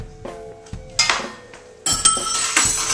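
Pizza dough ingredients being mixed in a bowl, heard as sharp clinks and knocks of a utensil against the bowl at an irregular pace, close and fairly loud, with no talking.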